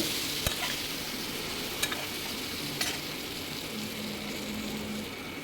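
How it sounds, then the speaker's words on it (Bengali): Fish curry ingredients with parwal and greens frying in a pan and being stirred: a steady, close hiss of sizzling oil with a few sharp clicks of a utensil against the pan, no talking. "একটু নেড়ে নিলাম একটু ঢাকা চাপা দিয়ে দেবো তো ঢাকা চাপা খুলে নিয়েছি দেখো অনেকটাই ভাজা ভাজা হয়ে এসছে"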